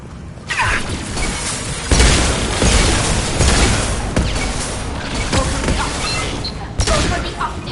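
Hacked defensive turret in Mass Effect 2 firing in sustained bursts amid a dense, loud battle soundscape of booms and impacts, with brief voices mixed in.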